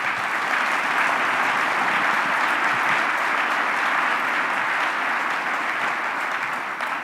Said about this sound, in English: So if everyone could please give them a round of applause.